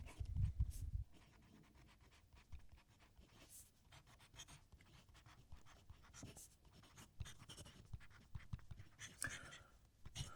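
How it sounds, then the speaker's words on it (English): A Jinhao X850 fountain pen with a medium nib writes in Diamine Merry and Bright ink, making a faint, continuous scratchy whisper across paper. The strokes come in a quiet, steady pattern. "And this is written with a medium nib"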